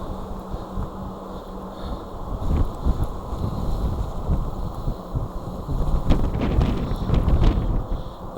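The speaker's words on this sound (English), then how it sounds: "Now we're straight into that wind." Strong hurricane-force wind roars and buffets the microphone while riding a 2024 Wired Freedom electric super bike, a continuous rumbling gust that surges louder in the second half, with no talk.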